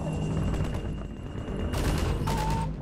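Steady rattling gunfire in the video game Half-Life 2, dense and continuous with sharper bursts and a brief tonal whine near the end, sitting loud in the game mix.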